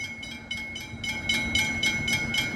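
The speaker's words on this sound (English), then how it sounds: "V-line train ahoy" A V-Line passenger train passes at Dandenong, a steady rumble with rhythmic wheel clatter building over a couple of seconds, fairly close and without talk.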